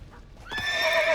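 A horse in The Witcher 3 gives a single rising whinny that swells and holds for about a second, close and fairly loud, following a quieter stretch with faint movement.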